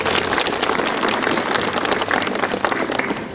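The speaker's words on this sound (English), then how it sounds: "Clap for yourselves." Students at a girls' school annual science week applaud themselves with thick, continuous clapping that holds at a steady, loud level from start to finish.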